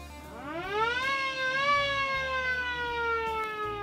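A rising siren wail at a car cruise-in that climbs in pitch, then holds a steady, loud tone with rich harmonics over a low background hum.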